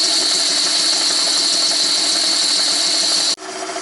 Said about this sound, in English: Just boring out the flywheel for its recess for the taper bearing thingy.